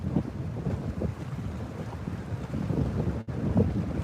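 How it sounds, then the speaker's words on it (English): Wind gusts blow into a lake cove during a bass fishing trip, buffeting the microphone with a rough, continuous rumble and a faint wash of water. "The way that the wind is kind of blowing back into it and everything."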